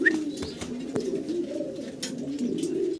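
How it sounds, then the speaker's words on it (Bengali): Grizzle-coloured Lahori pigeon at a breeder's farm, giving soft, close, low rolling coos in a continuous warbling run, with faint background noises. "দেখেন চমৎকার গ্রেবার কালারের ভিতরে একজন লাহোরি কবুতর দেখাচ্ছি"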